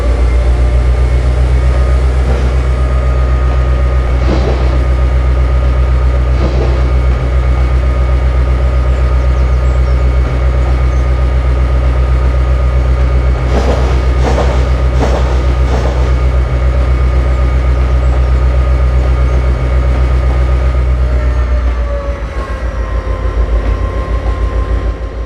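A cargo train locomotive in Train Simulator runs with a loud, steady diesel drone and rumble that holds throughout, with a few brief clanks partway through and a slight dip near the end.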